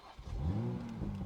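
A 2023 Toyota Supra with a 340-horsepower engine starts up close by, cranking into a rising rev that settles into a steady idle, with no talking over it.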